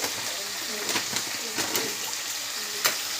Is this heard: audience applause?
no